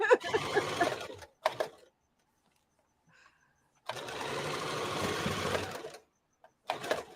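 A home sewing machine runs in two bursts, a short one and then a longer steady stretch of fast mechanical whirring and stitching, close and fairly loud, with quiet pauses between.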